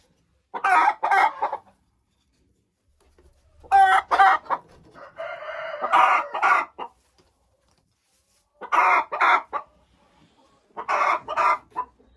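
Old laying hens in a henhouse cluck in several short bursts separated by quiet gaps, one longer drawn-out call in the middle, loud and close with no voices.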